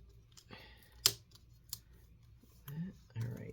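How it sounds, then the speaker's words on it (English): Plastic clips on a Lenovo IdeaPad S340 laptop screen bezel snap and click as the bezel is pried off, with a couple of sharp close clicks, some faint rustling and a person talking in between. "Sometimes you can actually hear the clips like clicking."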